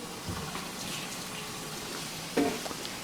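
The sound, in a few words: cabbage boiling in a pot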